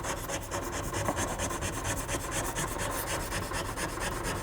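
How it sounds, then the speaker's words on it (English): A scouring pad scrubs a glass stove top with Weiman cook top cleaner in steady, rapid back-and-forth strokes, producing a continuous close, loud rasping rub with a regular rhythm. "if we go around again with the scouring pad"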